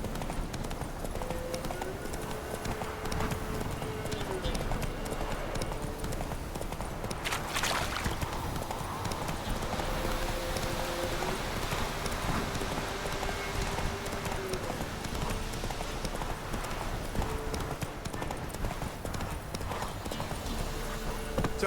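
Steady horse hooves clip-clopping in The Witcher 3, a continuous walking rhythm under game ambience and music, with a faint whinny partway through.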